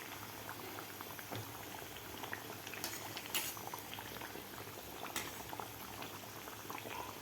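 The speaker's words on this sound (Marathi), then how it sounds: "तळताना व्यवस्थित मीडियम गॅसवरच आपल्याला ही कचोरी तळायची आहे." Onion kachori deep-frying in oil over a medium gas flame gives a faint, steady bubbling crackle throughout, with occasional small pops and no talk.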